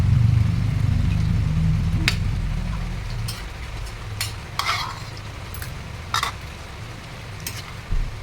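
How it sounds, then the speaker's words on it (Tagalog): Saucy pancit noodles stirred in a cooking pan, a low simmering rumble at first, then sparse scraping clinks of the utensil against the pan, close and without talk. "Medyo matigas pa. Kaya halu-haluin natin."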